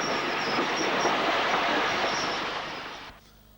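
Austerity 0-6-0 saddle tank 68012 and 4F 44027 steam locomotives hauling a passenger train through a station: a steady, loud rumble of rolling carriages and wheels on rails, fading out near the end.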